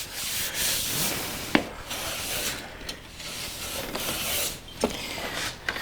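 A hand plane shaves a wooden drawer bottom, giving a close, continuous rasping scrape with a few sharp clicks as the blade catches, and no voices.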